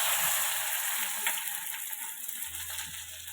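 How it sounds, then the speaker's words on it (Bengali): Chopped onions fry in a pan, giving a steady, close broadband sizzle that holds throughout without pause. "পেঁয়াজটা একটু ভেজে নিয়ে ব্রাউন করে, ব্রাউন করে ভেজে নিই।"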